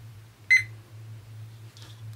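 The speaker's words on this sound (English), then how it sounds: "Okay, so I am pressing start on the timer." A timer gives a short electronic beep as it is started, then a fainter second chirp, over a low steady hum in a quiet room.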